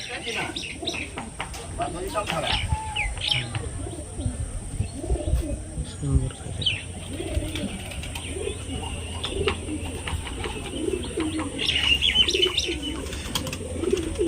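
Domestic pigeons coo softly in low, repeated throaty calls, with chirping birds, occasional wing flaps and a faint voice in a busy outdoor setting.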